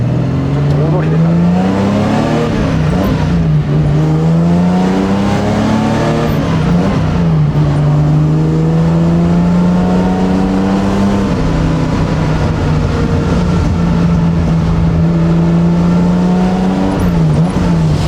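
A Nissan Skyline GT-R Hakosuka coupe drives along, its engine climbing and dropping through repeated rising revs and gear changes, loud and close, with a voice talking over it at times.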